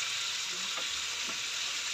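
A simple fried dish cooks in a pan, giving a continuous hissing sizzle that is steady and close, with no one talking.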